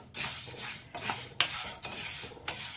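Grains being dry-roasted in a pan for a drumstick-leaf gravy: repeated scraping strokes of a spatula against the metal with soft rattling and faint sizzle, close and rhythmic.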